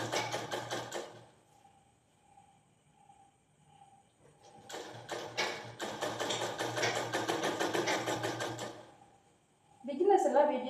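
A sewing machine stitches fabric and lace on knickers, first in a brief rapid burst, then after a pause in a long steady whirring run, ending in a sharper clatter.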